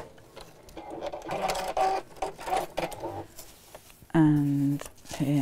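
A sewing machine stitches a box cushion cover in short, rapid bursts of whirring between pauses, with a person talking quietly around the stitching.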